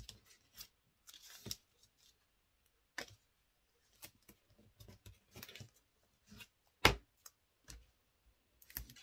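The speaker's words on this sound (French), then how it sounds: "on coupe nos petits scotch" Scissors snip small pieces of adhesive tape with sharp, quiet, irregular cuts, each a brief crisp click, amid soft rustling of paper while crafting a scrapbook album.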